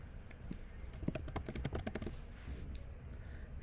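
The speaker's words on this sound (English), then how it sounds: "You're going to go ahead and type in the student's name." Quiet computer keyboard typing of a name, a soft cluster of quick key clicks in an irregular rhythm with a faint hum of the room underneath.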